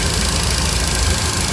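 A 1966 Cadillac V8 fitted with Holley Sniper fuel injection idles loud and close, a dense steady rumble with no talk over it.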